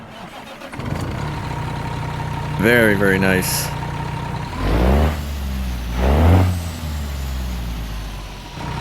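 A Kenworth W900A truck engine in American Truck Simulator cranks to life and settles into a deep, steady rumble that swells with a couple of revs, while someone talks briefly over it.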